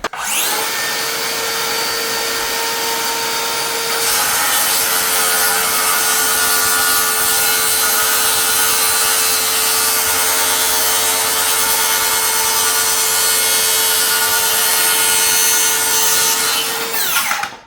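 A rear handle circular saw cuts through wood with a loud, sustained whine that rises as the blade bites in, runs steadily for most of the cut, then winds down at the end.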